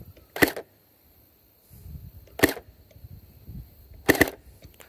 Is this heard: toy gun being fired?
yes